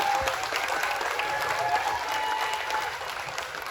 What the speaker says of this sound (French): vous pouvez encore une fois faire un tonnerre d'applaudissements